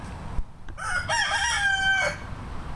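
A rooster crows once in a vegetable garden, a long, clear, strained call lasting about a second, loud and fairly close, over quiet outdoor background.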